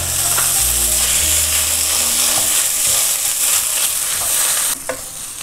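Roasted ground coconut and masala fry loudly in a pan for a homestyle chicken curry, a dense continuous sizzle with stirring scrapes that drops away abruptly near the end.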